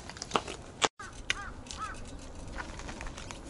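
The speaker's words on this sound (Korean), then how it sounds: "까마귀가 울죠?" A crow caws several times outdoors on a mountain-bike trail, its harsh calls somewhat distant and scattered among wind and rustling, with a brief dropout partway through.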